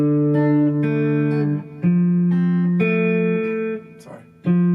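Acoustic guitar plays a riff, picked notes ringing over one another in a steady arpeggiated pattern, close and clear with brief pauses between phrases.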